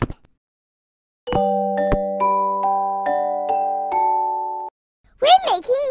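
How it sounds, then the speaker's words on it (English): Bells striking the notes of a simple melody: a sequence of clear, ringing tones struck one after another, each note sustaining and overlapping the next, followed by a voice at the end. "I love playing with these bells."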